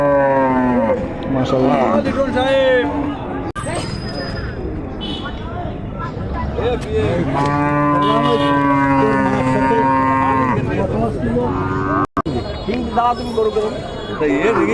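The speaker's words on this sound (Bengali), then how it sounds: "এখানে আরো চমৎকার দুটো গরু আছে" Cattle moo loudly and repeatedly, long drawn-out calls overlapping one another amid a busy crowd with voices chattering throughout, at the Nowapara cattle market in Jessore.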